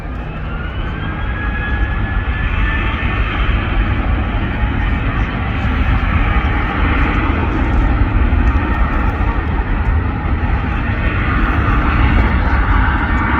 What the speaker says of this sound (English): Here we go, 737's moving.